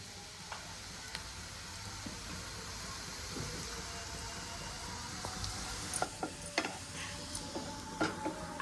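Onion frying for Maharashtrian baingan bharit makes a soft, continuous sizzle close by, broken by scattered light ticks and clinks of a spatula against the pan that grow more frequent toward the end, with no voices.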